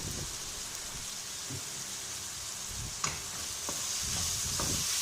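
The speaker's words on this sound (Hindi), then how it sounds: "टमाटर गलने तक हम इसको फ्राई करेंगे, पकाएंगे" Onion-tomato masala for baingan bharta fries in a pan, a constant sizzle with occasional stirring scrapes and taps of a spoon, close and moderately loud with no speech.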